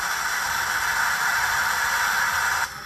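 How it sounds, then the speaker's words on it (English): A continuous loud hissing rush of steam blowdown from an N scale NYC Hudson model steam locomotive's sound system, holding steady for a few seconds before cutting off abruptly. "blow down sound,"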